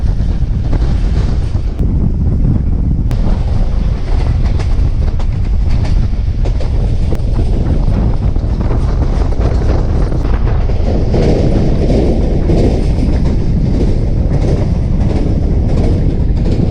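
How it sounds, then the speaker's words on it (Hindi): Tezgam passenger train running on the rails near Chaklala station between Rawalpindi and Lahore, a loud continuous rumble and clatter heard from inside the coach, with heavy wind buffeting the microphone. "चकलाला रेलवे स्टेशन पे हमारी गाड़ी पहुंची"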